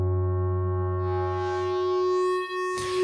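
Generative feedback synth patch in Ableton with distortion placed after reverb, a sustained stack of pure droning tones that thins into a hazy wash before a sudden burst of gritty noise near the end.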